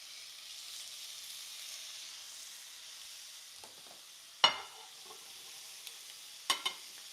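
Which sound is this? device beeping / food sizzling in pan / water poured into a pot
food sizzling in pan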